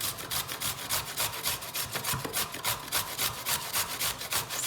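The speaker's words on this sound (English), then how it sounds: "until you've got it to the stage where you can grate the Swede. So back to the grater" Swede being grated by hand on a grater in a kitchen makes a rapid, regular run of raspy scraping strokes, close and fairly loud, with no talking.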